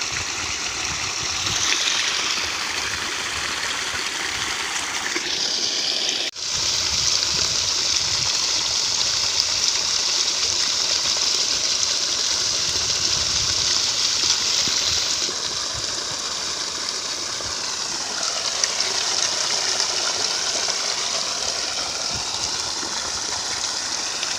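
Water gushes from a farm motor pump under test, a loud continuous splashing rush close by that shifts in tone midway and holds steady, with no talking.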